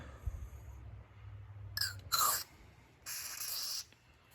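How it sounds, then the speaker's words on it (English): WD-40 white lithium grease sprayed from an aerosol can onto brake parts: short hissing bursts, two quick ones followed by a longer steady spray, close and clear over a low background rumble. "we're going to use the protective lithium, white lithium grease from WD-40"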